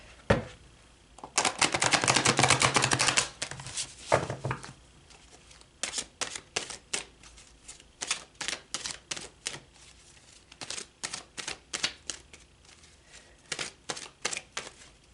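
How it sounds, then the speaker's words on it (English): A tarot card deck is shuffled close up. A long riffling burst comes first, then a run of short, crisp card flicks and taps, each set slightly apart, with no talking. "I feel like I need to give this deck a good shuffle."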